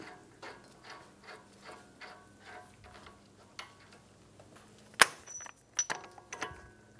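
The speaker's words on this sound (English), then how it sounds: "Install the axle nut." Rhythmic ratchet clicks from tightening the axle nut on a 2013–2017 Honda Accord's front knuckle assembly, a steady series of close, quiet strokes followed by a few sharper metallic clanks.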